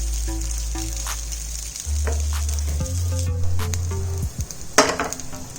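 Rice cutlets fry in hot oil in a pan over a medium gas flame, giving a steady close sizzle with a low hum, punctuated by light clinks and scrapes of a utensil.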